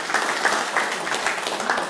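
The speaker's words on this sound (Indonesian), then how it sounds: "Tepuk tangan." Audience applause at a motivational session for Satpol PP civil service officers in Kepulauan Seribu, a dense steady patter of clapping from a room of people, fairly near, with a few louder claps standing out.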